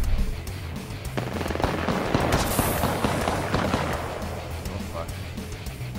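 Gunfire in the Apex Legends battle royale game: repeated sharp shots and bursts crackle steadily through a dense, noisy battle din, with a person talking over them.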